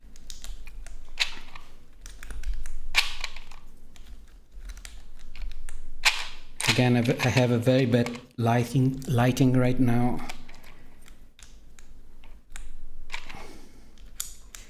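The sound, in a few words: typing on a mechanical keyboard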